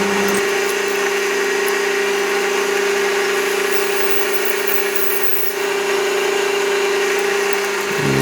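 A metal lathe takes a clean-up facing cut, a steady loud mechanical hum with a constant tone running alone throughout, briefly shifting near the end.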